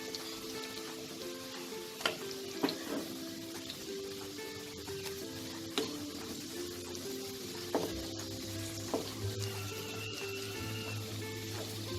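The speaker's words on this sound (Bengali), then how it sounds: "পেঁয়াজটা আমার ব্রাউন করে ভাজা হয়ে গেছে।" Onions frying brown in oil for a Bengali mutton kosha, a steady soft sizzle with a few sharper pops and crackles scattered through, close by and with no talk.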